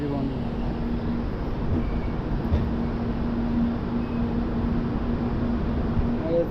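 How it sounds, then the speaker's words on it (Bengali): Steady low rumble and hum from inside the moving Mumbai–Howrah AC Duronto Express 12261 train, continuous and even, with people talking over it. "ওই যে সাপের মতো মোড়ায় যাচ্ছে ট্রেন।"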